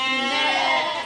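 Jawa Randu goats and sheep bleating at a livestock pen, one loud close drawn-out bleat lasting about a second.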